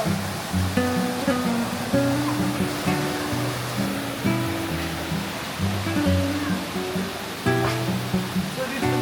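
Running water splashes steadily at an outdoor communal laundry in Chefchaouen, with children swimming nearby; the rushing flow continues under a rhythmic, repeating tonal pattern.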